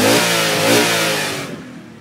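A 2001 BMW M5 engine revs hard and winds out, loud and close, then the roar fades away as it pulls off.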